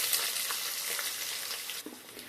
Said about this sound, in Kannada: ಈಗ ಹಚ್ಚಿ ಇಟ್ಕೊಂಡಂತಹ 2 ಈರುಳ್ಳಿಯನ್ನು ನಾನಿಲ್ಲಿ ಸೇರಿಸ್ತಾ ಇದ್ದೀನಿ